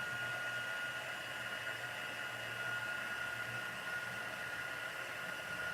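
A heat embossing tool blows hot air onto a card, a steady, loud, continuous whooshing hiss that holds without pause throughout.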